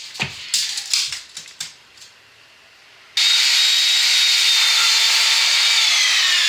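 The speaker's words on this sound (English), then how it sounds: "and then I'm going to cut my other two pieces." Architrave trim pieces are cut to size for a loft conversion. A few short scraping and knocking strokes come first, then a loud, steady, close-up cutting roar runs without a break to the end.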